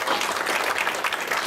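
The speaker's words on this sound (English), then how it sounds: "Let's give them a big round of applause." A room full of people gives a panel a short burst of steady applause, with many hands clapping together in a loud, dense patter.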